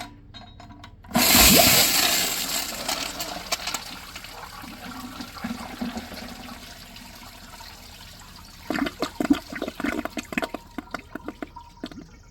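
A 2004 Gerber Ultraflush pressure-assisted toilet flushes with a sudden loud whoosh that fades into a long gurgling rush of water. Later comes a stretch of clattering, trickling refill noise.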